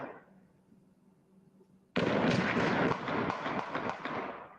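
Rapid burst of dozens of gunshots fired in quick succession, loud and dense after a quieter stretch, with the sharp cracks running together into a sustained rattling volley.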